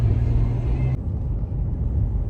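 Inside a car driving home from work on a dark road, a steady low engine and tyre rumble continues without a break, with faint higher noise dropping away partway through.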